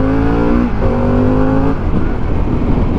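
A Harley-Davidson Pan America 1250 Special motorcycle accelerates hard and close, its engine note climbing in rising tones, dropping briefly at a gear change, then climbing again before settling into a rough, loud roar.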